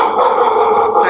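A dog barks close by for about a second, a sharp yappy bark standing alone.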